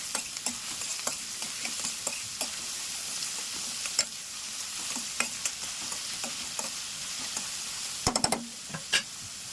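Cumin, mustard seeds, curry leaves and onions fry in hot oil with a steady sizzle, broken by sharp spoon-against-pan stirring knocks and a short cluster of clatters near the end; no one speaks.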